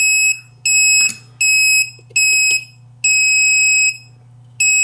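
A loud, piercing electronic buzzer on an LM317 regulated power supply sounds in repeated on-off bursts of uneven length, close up and harsh, over a low steady hum.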